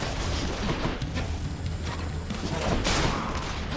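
Hazard Bomb explosions in the action game Hades go off as a dense, continuous barrage of booms and blasts with brighter bursts near the end, loud and unbroken under the game's combat noise.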